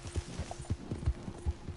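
Horse hooves clip-clopping in the video game Red Dead Redemption 2, a steady run of soft, low thuds at close range with no talk over them.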